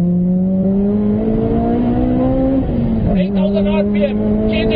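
Honda Mugen RR with a naturally aspirated VTEC engine on a test drive in Pannala, Sri Lanka, revving high with clear rising engine tones that drop at a gear change, loud and close beneath someone talking.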